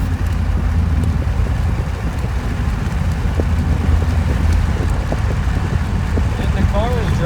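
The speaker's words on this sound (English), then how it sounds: "And the car is driving straight and I'm in lockup." Inside a car with a 6L80E automatic transmission locked up and run by an LTXD PCS controller, a steady low engine and road drone holds constant while cruising straight. A muffled voice seems to murmur underneath.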